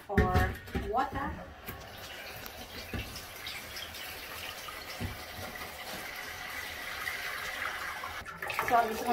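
Tap water runs steadily into a kettle in a home kitchen, a continuous close splashing rush with a few clanks at the start and end.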